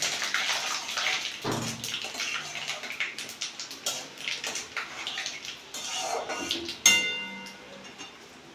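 Panch phoron five-spice seeds hitting hot oil with dried red chillies and bay leaves, a bright continuous sizzle and spatter that swells near the end, with faint clinks of a utensil.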